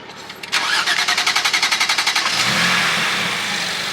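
A single-turbo BMW M3 xDrive engine with a Garrett G-series turbo cranks with a rapid rhythmic churning, catches, and settles into a steady, loud rumble close by.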